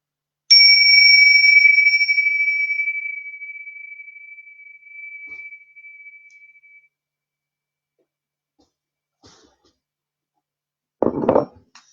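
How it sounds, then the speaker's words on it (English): A single bell is struck once, giving a clear bright ring that sustains and slowly fades over several seconds into silence, followed by a brief soft knock near the end. "I'm just going to ring this bell"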